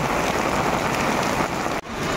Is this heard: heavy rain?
yes